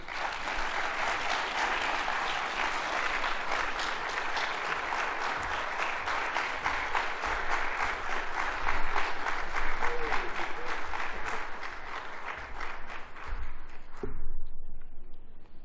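A lecture hall audience at the SAfm Annual Lecture 2024 gives sustained, even applause after the talk, a thick wash of many hands that swells slightly midway, then cuts off sharply, leaving a quieter room.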